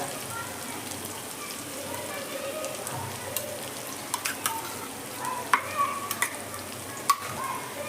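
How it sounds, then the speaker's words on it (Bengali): Onions stirred and fried in a pan for spicy kosha chicken: a steady close sizzle runs throughout, with a few sharper spatula scrapes and taps against the pan near the end. "পেঁয়াজটাকে খুব ভালো করে আমি নেড়ে নিচ্ছি"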